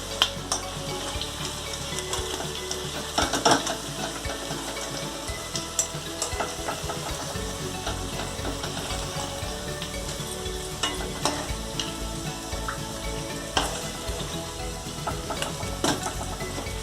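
Food frying noisily in a pan, with a steady sizzle broken by scraping stirs and occasional clinks of utensil on metal, close up and with no one speaking.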